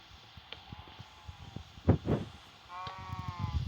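A video game sheep (Sky block) bleats once, a wavering nasal cry near the end, amid quiet thuds and soft background noise.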